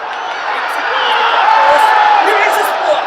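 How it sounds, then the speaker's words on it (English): Stadium crowd at a women's under-20 football match between Bangladesh and Nepal cheers steadily for Bangladesh, a broad sustained roar with scattered whoops that swells slightly midway, while a commentator talks over it. "Now the crowd getting behind the team."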